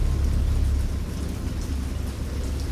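Heavy rain pounds down during a great storm while deep thunder rumbles underneath, a dense, loud, continuous roar with no voices.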